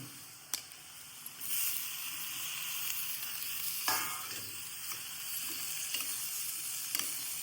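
Tomatoes cook in oil in a steel pan for a special pickle, giving a steady close sizzle with scraping stir strokes and a few sharp clinks, no talking.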